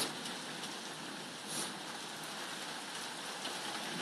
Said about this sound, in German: Mit Gewitter haben wir, Regen haben wir auch